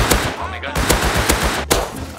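Gunfire during a fight in the video game Rust, several sharp loud shots in an uneven rhythm, some in quick pairs, ringing close with low echoing tails.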